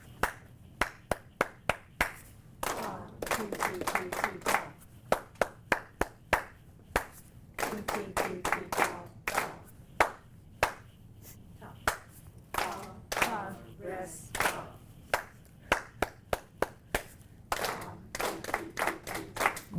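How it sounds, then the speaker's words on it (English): A class claps rhythms back to a teacher in a ukulele lesson, sharp hand claps grouped in short four-beat patterns with brief pauses between phrases, close and crisp, with faint voices between groups. "I clap, you clap back to me."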